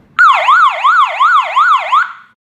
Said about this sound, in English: The first dip switch is intruder alarm